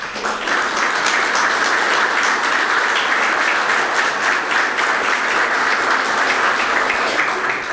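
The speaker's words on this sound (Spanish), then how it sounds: "El aplauso extensivo a todas las mujeres" Audience applause at a political event presenting an employment proposal, a dense steady wash of many hands clapping loudly and continuously from start to finish with no voices over it.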